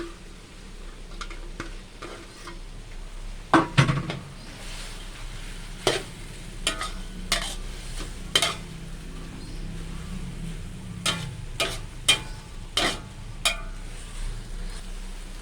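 Chinese celery and spring onion stir-fried in a pan, with a steady sizzle under scattered sharp clinks and scrapes of a utensil against the pan, fairly close and without talk.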